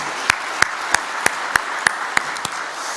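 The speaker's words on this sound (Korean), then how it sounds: "우리가 박수를 한번 쳐야 맞을 것 같아요." Hands clap in a church during a Sunday worship service: about eight sharp, evenly spaced claps in a steady rhythm over a quiet room, then they stop.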